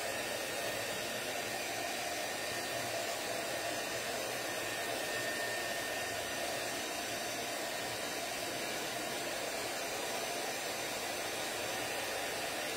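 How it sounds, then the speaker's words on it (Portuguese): A hair dryer blows steadily at close range on paper, a loud continuous rushing hum that never varies across the whole stretch. "Essa secagem pode ser com secador, soprador."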